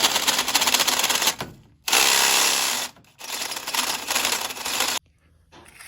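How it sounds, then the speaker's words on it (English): Welding a bracket onto a solid-axle-swapped Chevy in a shop, loud crackling buzz in three long bursts separated by brief pauses, then quiet. "get that welded on"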